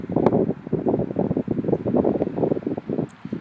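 Wind blows through fir trees in a steady, soft rushing with a low, fluttering rumble that swells and eases every fraction of a second, moderately close and without voices.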